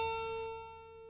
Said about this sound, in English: If, however, the guitar's A4 were tuned to 450 hertz,